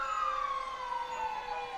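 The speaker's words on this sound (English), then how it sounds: "You hear those sirens, those big red trucks." Sirens from fire trucks passing during the 2021 Memorial Day parade in downtown Darien, just west of the I-95 overpass, a steady wailing tone sliding slowly downward, loud and continuous with no voices over it.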